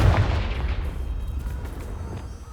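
A fire spell blasts in the Hogwarts Legacy game, a deep booming explosion that starts loud and rumbles on, fading slowly over a couple of seconds.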